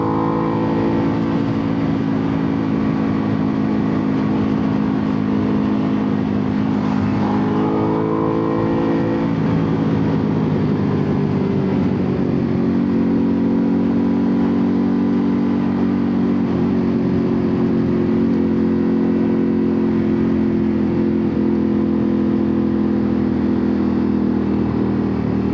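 A Ducati Panigale V2 S motorcycle rides through a downtown area, its engine droning steadily and close throughout, with a brief rise and shift in pitch partway through and no talk.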